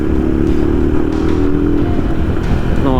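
A poorly maintained, dirty motorcycle with a broken indicator runs steadily close by, its engine a loud, continuous rumbling drone with some clatter and no pauses.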